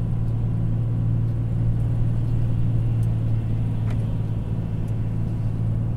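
Heavy truck, a Volvo FH, descending the Serra de Joinville mountain road, heard as a steady low engine rumble and drone from inside the cab, continuous and fairly loud with no talk.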